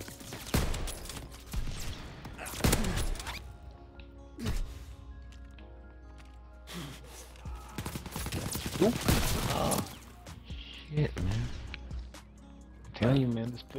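Rapid bursts of video game gunfire crackle in repeated volleys, fairly loud and sharp, while a player talks excitedly over and between the shots.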